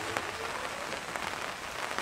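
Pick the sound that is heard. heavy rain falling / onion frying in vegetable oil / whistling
heavy rain falling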